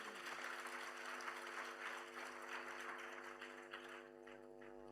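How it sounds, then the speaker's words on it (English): Faint applause from a conference audience at a diaspora summit, a soft wash of clapping over sustained steady tones, easing slightly near the end. "Give us a big round of applause."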